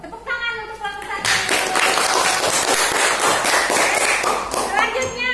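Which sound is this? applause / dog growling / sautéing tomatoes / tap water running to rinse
applause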